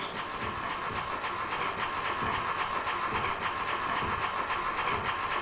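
Inside a passenger train in the horror video game Echo Night, a steady rumbling ride with faint rhythmic rail clacks and a hissing wash carries on evenly and fairly quietly, with no voices.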